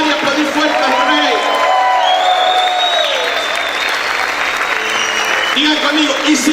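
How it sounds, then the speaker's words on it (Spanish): A church congregation claps loudly and shouts in praise, a steady dense wall of applause with cheers and whoops rising above it, voices calling out throughout. "¿Cuántos pueden gritar y aplaudir fuerte al Rey?"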